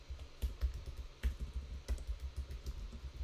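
Fingers type on a computer keyboard in quick, uneven bursts of soft clicking taps, fairly quiet and close, with no voices.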